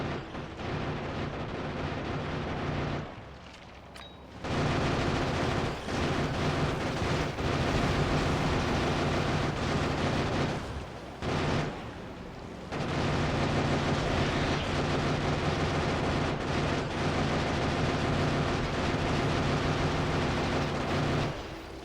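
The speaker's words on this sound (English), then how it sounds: "We just kind of plow through the base with automated weapons." Automated turrets in Factorio pour continuous heavy fire into an enemy base, a dense roaring barrage of rapid shots and blasts that drops out briefly twice before resuming loud and sustained.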